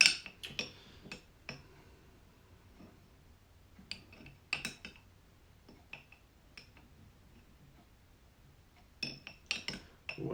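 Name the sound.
spoon clinking in jar fetching Luxardo cherries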